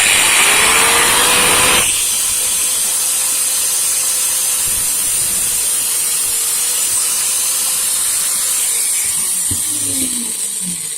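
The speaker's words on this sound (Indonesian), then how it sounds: "Biasa saya pakai gurinda, karena gergaji besi tidak punya, pakai gurinda yang ada saja" An angle grinder cuts metal, whining loudly with a steady high-pitched hiss and hum, a brief harsh burst at the start, then continuous grinding that tapers slightly near the end.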